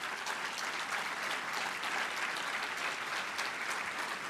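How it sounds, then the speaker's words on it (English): Crowd at a State of the City event applauding General Manager Derek Franks, a sustained, even wall of clapping from a large audience, fairly soft and distant in tone. "Give him an applause."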